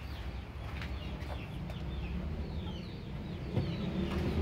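Hens clucking in a coop beside an egg incubator, repeated cackles and clucks over a steady farmyard noise, fairly close and continuous.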